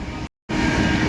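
Steady rumbling of a moving train heard from inside a carriage approaching Chennai Central, broken by a brief moment of silence.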